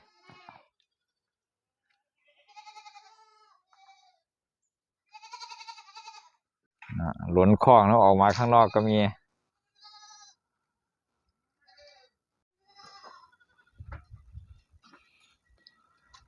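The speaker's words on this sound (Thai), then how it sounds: "แวะมาถ่ายแพะ ให้เพื่อนๆได้ดูกัน" Goats at a farm bleat in short wavering calls, with one loud, long, close cry in the middle and fainter ones spread around it. Someone speaks briefly in the background.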